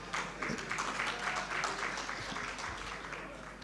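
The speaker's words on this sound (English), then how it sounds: "Clap for me too." An audience at an engineering conference claps together in a sustained, moderately loud burst that carries through the whole stretch without voices.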